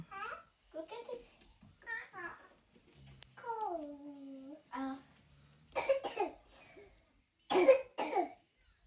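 A child coughs in two harsh bursts toward the end, each a short cluster of rough hacks, amid nearby talking voices in a home setting.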